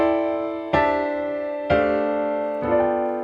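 Piano chords in a jazzy progression, three sustained voicings struck about a second apart, each ringing with rich harmonics and slowly decaying; close and moderately loud, no talking.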